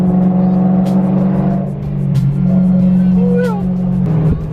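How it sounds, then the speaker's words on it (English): A BMW E36 M3 drives up a canyon road, its engine humming steadily with a dip and recovery in pitch as it shifts, heard from nearby with a few faint high chirps and brief talk mixed in. "The E36 does look good though. Going up the canyon."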